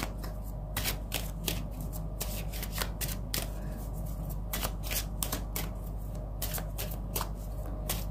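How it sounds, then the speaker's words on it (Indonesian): Playing cards being shuffled in repeated quick riffles and snaps, close and clear, with a steady low hum underneath and no talking, during a tarot-style card reading. "Oke, saya akan mengambil kartu pendukung lainnya"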